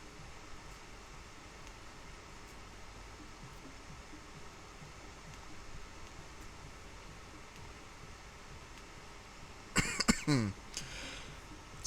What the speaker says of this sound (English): let me mute my microphone while I cough my lungs up